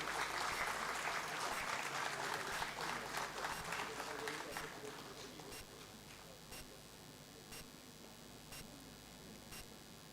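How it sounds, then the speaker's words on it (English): Audience applause at a university foundation day ceremony honouring a professor, dense clapping loud at first and thinning to a lighter patter after a few seconds, with a voice carrying over it. "A big round of applause for Professor Jha."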